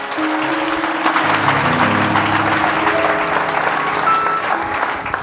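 Congregation applauding for Jesus during a New Year's Day sermon in a church, a dense, steady wash of clapping throughout, with sustained tonal sound beneath, likely music or voices.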